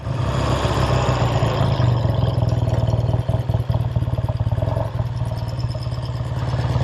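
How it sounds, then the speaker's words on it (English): A 1969 Triumph Daytona 500cc air-cooled parallel twin motorcycle idles up close, a loud, steady, throbbing putter with mechanical clatter and a few brief stumbles and blips of throttle midway. "Very good sounding parallel twin, 500cc air cooled unit motor."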